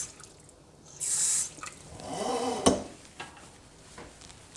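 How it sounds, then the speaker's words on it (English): Water is poured in a short burst into a moldy water bottle being cleaned with baking soda, followed by a brief knock and a few small drips. The pour sounds close and fairly quiet. "And then also going to put some water in there"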